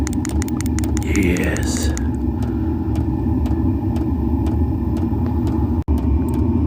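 A diesel heater turned all the way up runs with a steady, loud roar that holds unbroken throughout, with someone talking over it.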